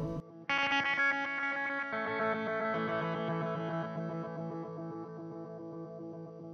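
Sustained shimmering, layered electric guitar chords through a Meris LVX granular pedal with stereo spread, a wide, granular wash of overlapping repeats, steady and loud throughout with no voices.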